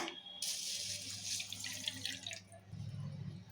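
Water splashes into a bowl of sesame seeds being rinsed for cooking, then is tipped out and drained. A brisk pouring rush gives way to a low, gurgling trickle, close and fairly quiet.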